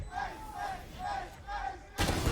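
Spectators at an esports match of the shooter Valorant, LOUD against KRU on the map Split, roar and chant in rising swells, with a sudden loud burst of crowd noise at the end.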